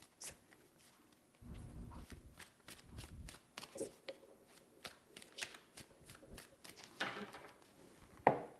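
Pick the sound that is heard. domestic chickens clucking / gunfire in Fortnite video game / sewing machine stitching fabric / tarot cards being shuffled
tarot cards being shuffled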